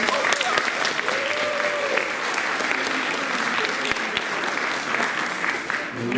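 An audience at a school film festival applauds seventh graders, a dense, loud burst of clapping that holds steady throughout with a few sharper individual claps on top.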